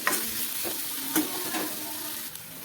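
Grated ginger and garlic sizzle in hot oil over high heat for a Manchurian dish, with steady frying hiss and a few scrapes of a spoon stirring the pan, close and continuous.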